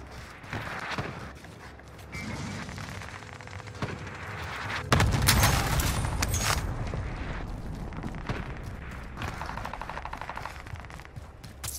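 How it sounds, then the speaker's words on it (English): Cluster airstrike explosions in a first-person shooter game, a heavy rumbling burst of blasts landing mid-clip amid scattered gunfire, loud and sustained, then trailing off into continued shooting. "Airstrike deployed at my mark. Got your request. Cluster strike is active."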